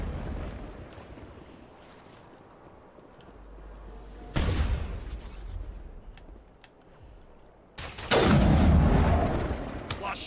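Gunfire in a crossfire during a battle against Geth forces in the video game Mass Effect, with heavy booming shots bursting loudly twice over a steady rumbling background.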